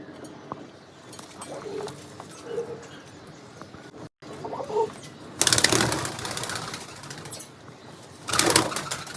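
Pigeons coo softly in the background, then wings flap loudly in two short bursts.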